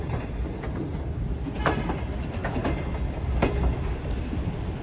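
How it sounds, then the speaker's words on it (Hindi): Shalimar Express train pulling out of Sangla Hill Junction station, with a steady rumble of wheels on track and several sharp clicks and clanks of couplings and rail joints as the carriages get moving. "सांगला हिल जंक्शन रेलवे स्टेशन से हमारी ट्रेन ने डिपार्चर ले लिया है"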